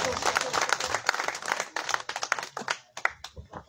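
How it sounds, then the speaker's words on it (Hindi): Audience applause at a Pothwari poetry gathering (mushaira), with dense clapping that starts full and loud, then thins into scattered, uneven claps toward the end. "भरपूर तालियां दोस्तों"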